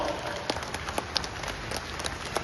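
A crowd at a Karnataka political gathering welcoming Yediyurappa claps steadily, the applause thin and somewhat distant, with scattered sharper hand claps popping out of the wash and faint crowd murmur beneath.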